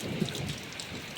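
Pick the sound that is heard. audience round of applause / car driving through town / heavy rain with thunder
heavy rain with thunder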